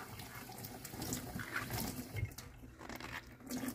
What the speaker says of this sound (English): I'm gonna make sure I rinse all that soap out of my brush.